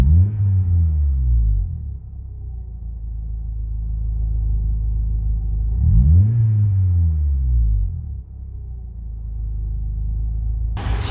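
Inside a Honda CRX Del Sol with a B16 engine, a low rumble at idle drones steadily through the cabin, rising in two slow sweeping swells like gentle revs before settling again.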